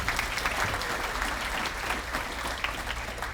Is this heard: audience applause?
yes